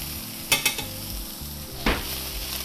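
Steak frying in butter in a pan, a soft steady sizzle broken by a few sharp knocks and clinks of utensils against the pan, quiet and close with no talk.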